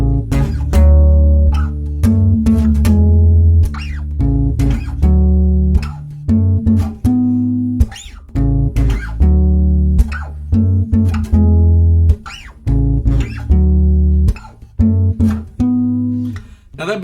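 Bass guitar playing the Trading My Sorrows groove, a run of plucked low notes with syncopated gaps and sustained tones, loud and close with no talking.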